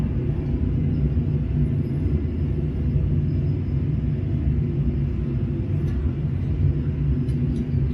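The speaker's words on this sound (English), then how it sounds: "Thrust reversers engaged and green." Thrust reversers on a 737 landing in a flight simulator game, a loud, steady low rumbling roar that holds evenly throughout without any talk.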